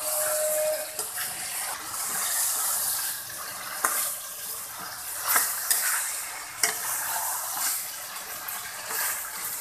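Spices with cumin powder and cardamom-cinnamon powder sizzle steadily in a pan while being stirred, the broad frying hiss continuous with a few sharper scrapes of the spoon, close and alone without talk.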